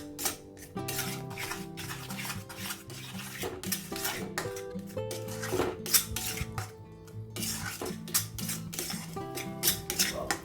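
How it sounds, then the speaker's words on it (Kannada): Garlic methi gravy masala fries in a pan while a spoon stirs continuously, giving faint repeated scrapes and metallic clinks against the pan over a soft background sizzle. "ನೀಟಾಗಿ ಮಿಕ್ಸ್ ಮಾಡಿ ಹಾಗೆ ಕಂಟಿನ್ಯೂಯಸ್ಲಿ ಫ್ ರೈ ಮಾಡಿ ಅಂಟಿಲ್ ಮಸಾಲ ಸ್ಲೈಟ್ಲಿ ಥಿಕ್ ಆಗುತ್ತೆ"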